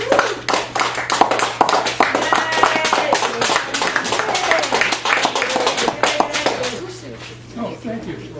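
Audience at a poetry open mic in a cafe claps enthusiastically, a dense stream of sharp hand claps that swells, holds for several seconds, then thins out toward the end.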